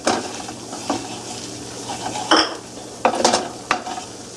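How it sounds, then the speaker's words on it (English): Mushrooms, onions and garlic sautéing in a pan for Oysters Bienville, a soft steady sizzle broken by several sharp utensil scrapes and clinks against the pan. "We're going to saute this."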